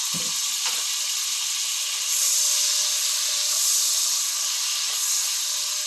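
Garlic sizzling hard in a hot pan while shrimp with cream of mushroom and rice noodles is being cooked, a steady loud hiss and crackle with no talking.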